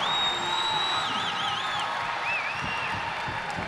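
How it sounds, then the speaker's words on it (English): A volleyball crowd roars after a big block in a women's college match, a loud sustained wall of cheering with high whistles and whoops rising above it, continuous throughout. "And the crowd is alive."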